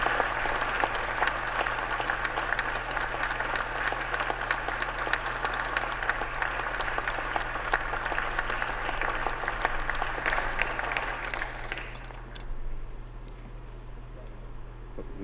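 Applause fills the Senate chamber, a sustained roomy patter of many hands that holds steady for about twelve seconds before thinning out and fading.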